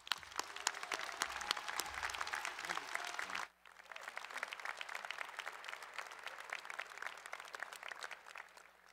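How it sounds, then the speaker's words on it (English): A large commencement crowd applauds steadily for a speaker, dense clapping that fills the hall throughout, briefly dipping and then continuing at a slightly lower level. "appreciate the ovation"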